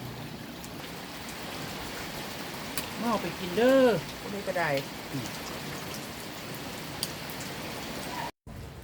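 Steady rain falls during the rainy season as a constant hiss through the whole stretch. Someone speaks briefly over it midway.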